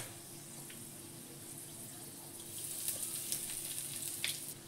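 Cardamom, cloves, cinnamon and asafoetida sizzle in hot oil as tempering for a vegetarian bori curry with yogurt: a soft, even hiss that grows louder and more crackly partway through, with small spits and pops and no voices.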